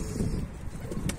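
A Bango pigeon coos near a rooftop loft, low soft throaty pulses close by, with a brief brighter flutter or chirp near the end.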